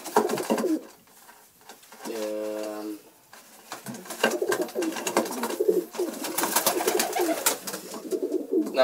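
Pigeons coo in soft, repeated throaty calls at close range, with someone talking in Hungarian over and between the calls and some handling clatter nearby.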